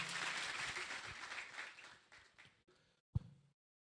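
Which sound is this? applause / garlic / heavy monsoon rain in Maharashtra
applause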